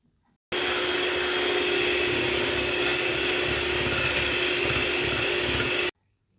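Electric mixer steadily beating white sugar with egg yolks for a Sri Lankan love cake, a loud continuous whir that starts and stops abruptly, heard alone.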